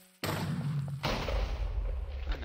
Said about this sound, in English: we will fire the cannon